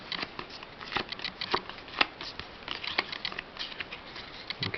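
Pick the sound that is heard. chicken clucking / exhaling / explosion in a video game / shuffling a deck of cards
shuffling a deck of cards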